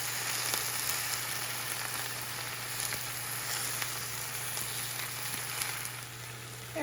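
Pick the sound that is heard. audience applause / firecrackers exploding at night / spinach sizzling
spinach sizzling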